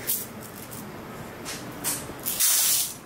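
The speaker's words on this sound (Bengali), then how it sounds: "আর ঢেলে রাখি সব চাল।" Uncooked coarse rice for khichuri being poured, a soft granular hiss in a few short bursts that ends in a louder, longer rush near the close.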